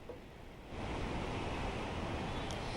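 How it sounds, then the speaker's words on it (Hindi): High-tide ocean waves surge at Juhu Beach in Mumbai during a storm, a loud, continuous roar of surf that swells after a softer first moment, with some wind across the microphone. "बहुत ऊंचाई तक ये लहरें, हाई टाइड का समय है और ऊपर तक ये लहरें आ रही हैं"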